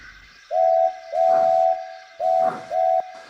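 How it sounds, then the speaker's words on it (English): A steam locomotive sounds its whistle in four clear, loud blasts, two long and two shorter, each a steady piercing tone with puffing steam between them. "The twins gave cheerful whistles and puffed off,"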